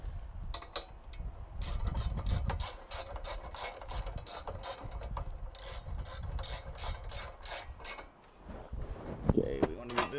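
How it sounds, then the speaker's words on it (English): A ratchet wrench tightens bolts on Jeep JK Rubicon slider steps, giving repeated quick clicking strokes in bursts at close range. "Tighten down this factory bolt. And then tighten these two down snug."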